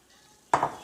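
Crepe batter hits a hot crepe maker tray with a sudden sizzling splash after a near-silent moment, then a short hiss as it spreads.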